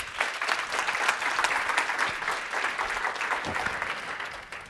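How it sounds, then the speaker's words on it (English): An audience at a practice-marketing talk claps together in a dense, steady round of applause that holds at even strength for nearly five seconds before tapering slightly at the end. "Give yourselves a round of applause."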